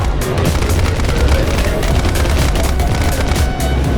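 Dense, continuous gunfire and booming shots in War Thunder, a World War II combat game, loud and steady throughout with no talking.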